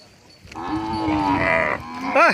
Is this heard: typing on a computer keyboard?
no